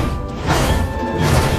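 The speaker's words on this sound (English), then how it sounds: "The robot kept smashing houses," Loud crash sound effect of a robot smashing houses, a dense broadband burst of debris and impact noise sustained throughout, alone without talk.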